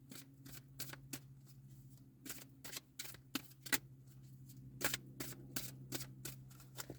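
Oracle cards being shuffled for a reading: a run of crisp, rapid riffling bursts, close and fairly quiet, with no talking.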